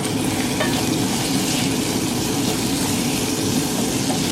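Red lentils with parsley, chili flakes, black pepper, salt and mint fry in oil, giving a loud, steady sizzle with continuous stirring and no speech.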